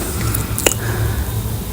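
Thick amala made from powdered blended plantain is stirred and turned in a pot, giving soft squishy, sticky sounds with one sharper wet click, close and continuous.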